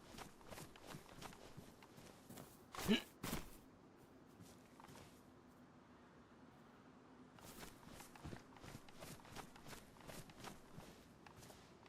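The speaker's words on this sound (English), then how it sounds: "I just heard footsteps." Footsteps in the survival video game DayZ thud in a steady run of crunchy impacts, a louder cluster near the middle, over a constant ambient game background with no talking.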